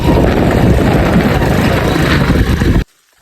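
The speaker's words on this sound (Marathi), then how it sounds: "आज आता कांद्याची मोटर चालू केली" A farm water pump motor runs loud and close with a constant droning rumble, then cuts off abruptly near the end into silence.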